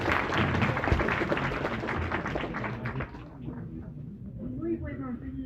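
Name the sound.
audience applause for a lecturer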